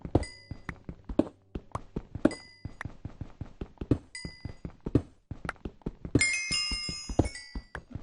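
Blocks are mined in the video game Minecraft with a rapid, uneven run of short, sharp knocks and thuds at close range, followed near the end by a burst of bright chiming pickup tones.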